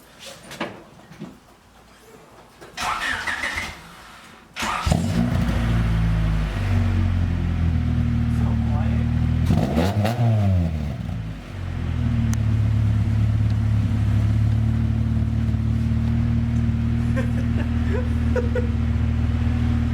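An SR20DET-engined car with a newly installed downpipe and muffler starts up and runs with a loud, deep exhaust rumble, blipping into a brief rev midway before settling back to a steady, throaty idle.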